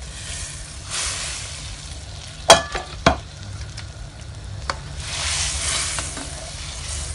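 Prawns stirred into a simmering Bengali chingri curry gravy, with a few sharp spoon-against-pot clinks over a steady soft sizzle and bubbling, close by and with no voices.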